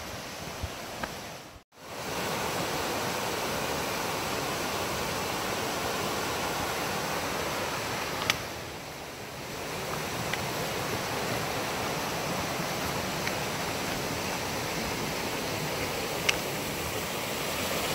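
A river flows beside the Big Quilcene trail in the Olympic Mountains, a steady, loud, continuous rush of water close by that fills the whole stretch without talking.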